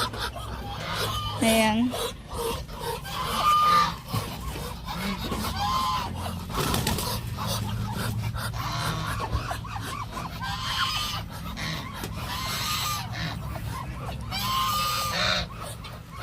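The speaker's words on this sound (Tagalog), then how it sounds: "At dito naman yung ating mga local breed na hen." Backyard farm fowl including local breed hens and Indonesian Muscovy ducks, with scattered calls and honks over a busy outdoor background while someone talks throughout.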